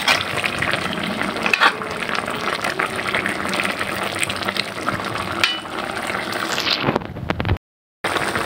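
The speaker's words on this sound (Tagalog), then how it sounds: "antayin lang po natin tuluyang maluto po itong ating ginisang gulay" Mixed vegetables sizzle and fry steadily in a pan for a home-cooked ginisang gulay, a dense, continuous crackle with occasional louder spits, close up, ending in a brief moment of silence.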